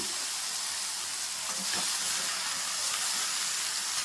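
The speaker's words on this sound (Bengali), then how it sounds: "আমি অল্প একটু বাটার দিয়ে সবজিগুলো একটু ফ্রাই করে নেব" Vegetables fry in a little butter with a steady, close sizzle and hiss, broken now and then by soft stirring.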